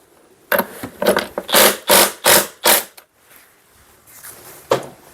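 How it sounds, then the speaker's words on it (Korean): Two bolts on a gaming chair backrest are loosened with a tool, giving a run of about six loud rasping turns in a quick rhythm, then quieter fiddling and one last rasp, close up. "볼트 두 개를 이렇게 풀어주고"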